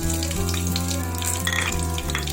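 Bay leaf, cloves and peppercorns fry in hot oil, giving a steady, close sizzle that crackles without pause and with no voices over it.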